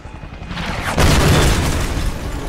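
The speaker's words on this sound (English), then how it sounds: "Explosions are a bit loud." A loud, sudden explosion in the video game Just Cause 2 bursts out after a low rumbling buildup, followed by a sustained roaring blast.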